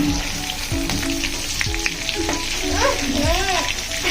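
Food sizzles in a pan on a gas stove, a constant loud frying hiss close by, broken by clanks and scrapes of a utensil and a few short squeaky tones.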